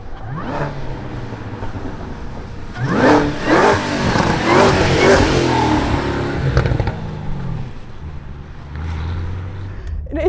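Cadillac CT5-V Blackwing accelerating hard on a race track, engine note climbing through revs with a loud surge in the middle before easing off, heard from inside or close to the car.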